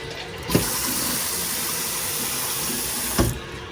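A bathroom tap runs in a house, with water pouring steadily at good pressure as a continuous loud hiss, and a click as it is turned on and another as it is shut off.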